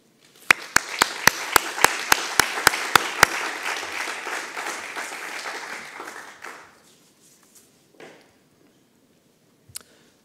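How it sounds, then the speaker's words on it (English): Audience applause at a symposium and book launch on Athens' urban landscapes: several sharp near claps ring out first, then steady crowd clapping fills about six seconds before fading out, with a few stray claps after. "We would like to give a big applause to the people and institutions who have helped to make this"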